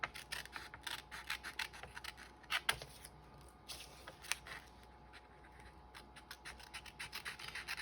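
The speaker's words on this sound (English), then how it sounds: "I'm using the big scissors." Big scissors snip through paper envelope material while making a pocket, producing quiet, irregular crisp cuts and rustling scrapes close by.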